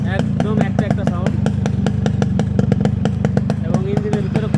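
A Yamaha RXS 115 motorcycle idles close by with an even, fast putter and mechanical clatter, steady throughout as someone speaks over the engine.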